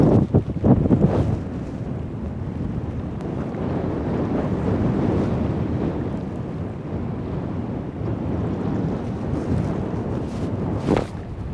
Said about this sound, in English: Sorry about this wind, guys. I wasn't expecting it to be this windy today.